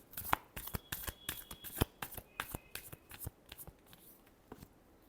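Tarot cards being shuffled close up, a quick run of crisp riffling flicks and soft slaps in an uneven rhythm, fairly quiet and with no talk.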